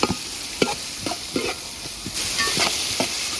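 Ingredients with salt sautéing in a pan for a Kerala toddy-shop style dish: a steady hiss of frying with sharp scraping spatula strokes at irregular intervals, close and fairly loud, no talking.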